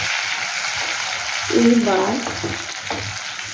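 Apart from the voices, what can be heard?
mustard, poppy seed, ginger and chili paste frying in oil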